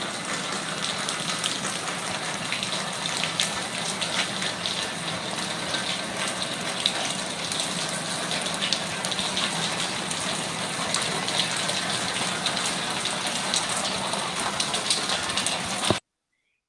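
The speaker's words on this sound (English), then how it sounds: "the sound of running water is supposed to be very soothing" Running water gushing steadily during a water damage emergency, a loud continuous rushing hiss with no pauses that cuts off abruptly at the very end.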